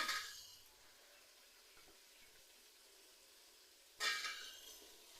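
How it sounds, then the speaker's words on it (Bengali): Chopped potatoes fry with spices in a pan, giving a soft, steady sizzle and hiss with brief louder bursts of frying noise at the start and near the end. "ভালো করে মশলাগুলোর সঙ্গে আলুটা ভালো করে কষিয়ে নেব।"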